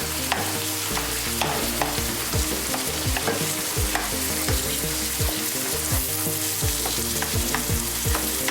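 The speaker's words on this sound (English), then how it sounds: "Just scrape the pieces up." Chicken curry with tinned plum tomatoes is stirred and scraped in a pot, giving a continuous loud sizzle with dense, rapid scraping strokes of a utensil against the base, close up and without speech.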